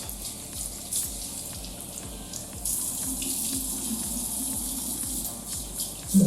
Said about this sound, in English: So, let's do one rinse.